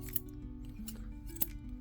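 Curved grooming shears snip twice in a test cut, each a sharp metallic clip, close and distinct over a steady low background hum.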